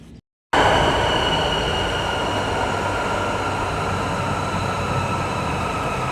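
Loud, steady rumble of an Istanbul metro train in motion, with a sustained high metallic whine over the rolling noise after a brief silence.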